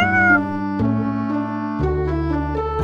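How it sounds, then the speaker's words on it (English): A cat meows in a medium-length, drawn-out call that shifts pitch partway through, close and loud with no other sounds. "A medium length meow might be a request for water or food."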